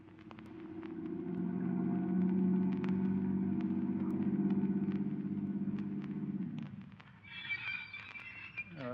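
A car's engine rumbles steadily and low in a radio drama for several seconds before fading out, and a lighter, higher-pitched mechanical or wind-like sound takes over near the end, with no speech.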